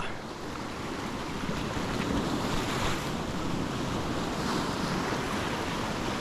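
Steady roar of breaking white water surf on both sides, with wind buffeting the microphone and a faint boat presence; a broad, continuous wash with no talk.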